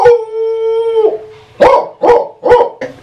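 A man imitates a big dog scaring off a stranger dog, starting with a long sustained howl and then giving four loud, gruff barks at a steady pace, close up with no other sound.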